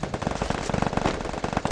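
Rapid automatic gunfire in the Free Fire video game, a dense, fast burst of close shots rattling continuously without pause and with no talking.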